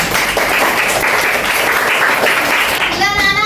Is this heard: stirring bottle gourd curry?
no